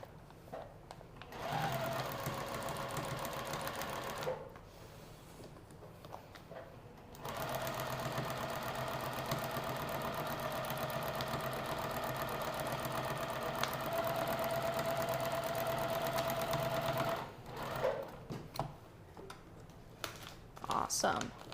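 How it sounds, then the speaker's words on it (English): A home sewing machine stitches across a paper-pieced cowboy boot fabric panel in steady, fast mechanical runs, pausing briefly between bursts, with a voice talking now and then over the whirring. "Take it to our sewing machine,"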